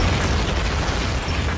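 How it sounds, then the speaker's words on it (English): Continuous roar of World War II artillery bombardment during the Normandy invasion, loud dense blasts merging into one sustained rumble with no talk. "Now comes bombardment by artillery."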